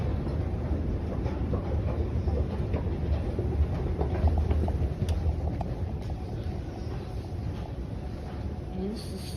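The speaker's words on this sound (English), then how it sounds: "So this is the subway of the future, an AI subway, so metro system." A driverless metro train in Paris rumbles steadily along the track, a dense low roar with faint rattles, and some indistinct talk mixed in underneath.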